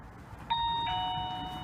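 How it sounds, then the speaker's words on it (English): A doorbell triggered by a light sensor chimes with two clear electronic tones, a ding then a dong, ringing on over a steady outdoor background hiss. "I've set off the doorbell."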